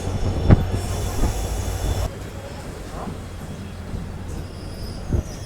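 A Ballari–Davanagere DEMU train rolls into Kudutni station's platform 1, its wheels letting out a sustained high squeal over a low rumble. The squeal cuts off midway, then a thin whine and a few knocks follow as it slows.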